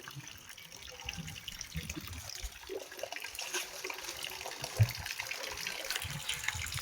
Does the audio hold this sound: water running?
yes